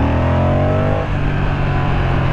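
A 2023 Moto Guzzi V100 Mandello sport-tourer engine revs loudly and close, its pitch climbing through a gear and then settling into a steady throaty drone as the bike rides on, with no one speaking.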